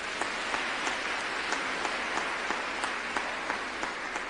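Applause from a church audience during a sermon, an even patter of many hands clapping, fairly soft and continuous with a few sharper claps standing out.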